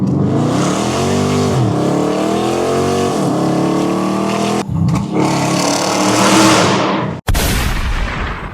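A cammed Dodge Challenger R/T V8 revs loudly and close, its pitch rising and falling through repeated throttle blips, with a brief cut and a sharp pop toward the end.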